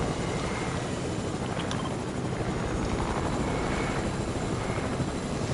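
A video game helicopter's steady, loud rotor and engine drone fills the whole stretch, constant and close with no pauses.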